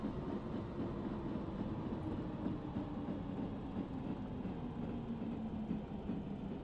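A diesel railcar in the Diesel Railcar Simulator game, a steady low rumble of engine and wheels on rails at a moderate, even level throughout, with no distinct brake squeal standing out.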